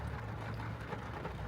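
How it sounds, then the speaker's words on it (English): Steady rain falls on a mountain pass road, a dense, continuous hiss and patter at an even loudness, with a low rumble beneath it and no voices. "That's right, it's raining."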